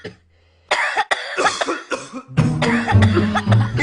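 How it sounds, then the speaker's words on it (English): Several people cough in a TV advert, a sharp cough after a short silence and then a burst of repeated overlapping coughs and throat clearing, close and loud. "Are they still coughing?"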